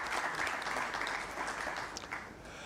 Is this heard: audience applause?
yes